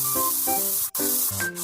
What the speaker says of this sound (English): Then spray the steel plate with paint.